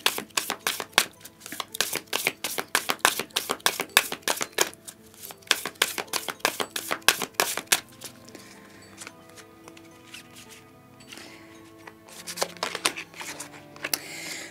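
Tarot cards are shuffled in quick, crisp riffles and flutters, close and fairly quiet, with a pause of softer handling midway before a few more rapid bursts.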